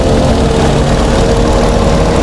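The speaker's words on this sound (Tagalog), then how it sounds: "So tingnan natin yung makina nito. Ito ay 3-cylinder lang" The small 3-cylinder engine of a 2024 Mitsubishi Mirage G4 GLX idles steadily in a loud, close, uniform rumble with no voices over it.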